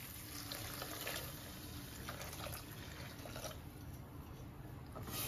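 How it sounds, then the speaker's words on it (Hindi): Warmed milk pours steadily into sabudana kheer, making a soft, continuous liquid trickle with small splashes, faint and close. "अब दूध डालते हैं इसमें।"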